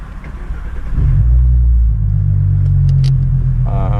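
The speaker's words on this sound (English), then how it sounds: "today we're operating 2017 Ford Mustang with a V6 modified exhaust" A 2017 Ford Mustang V6 with a modified exhaust, cold-air filter and tuner, rumbles loudly and close with a deep steady drone that rises as it pulls away, alone without talk.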